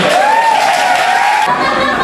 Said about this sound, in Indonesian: Beri tepuk tangan dulu buat Dina dong. Ya, tepuk tangan buat Rahul.